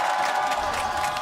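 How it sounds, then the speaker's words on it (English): A live esports arena crowd at the LEC 2022 Spring Playoffs screams and cheers for Rogue, a dense, continuous roar of many voices filling the hall without letup. "All right, crowd, I want to hear you scream, do you think Rogue can make the comeback?"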